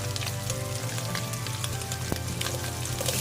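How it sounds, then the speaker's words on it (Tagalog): Butter sizzles in a frying pan with a dense, steady crackle and hiss, close and continuous throughout. "Lagyan tayo ng butter."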